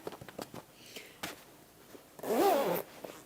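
A zip being fitted and zipped onto fabric while sewing, heard as one close, loud rasping zip run of about half a second, preceded by soft handling noises and faint rustles.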